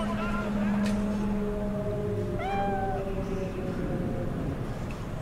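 A cat in the Cyberpunk 2077 video game gives a rising, wavering meow partway through, set over steady game ambience and background hum, with a voice talking faintly beneath.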